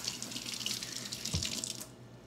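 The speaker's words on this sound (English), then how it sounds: "Let me wash my hands off again." Tap water runs into a kitchen sink while hands are rinsed during fish frying preparation, a close, bright splashing stream with a brief low thump midway, then cut off near the end.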